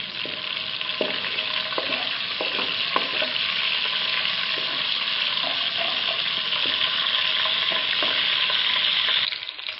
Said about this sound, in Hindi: साथ में जीरा ऐड कर देंगे। तकरीबन 1 मिनट इसको हम पकाएंगे।